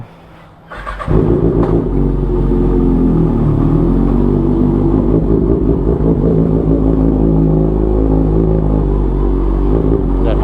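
A Kawasaki ZX-6R sport motorcycle, not yet warmed up, bursts into a loud, close, steady engine rumble with a deep throbbing tone after a second of near quiet, holding on without a break.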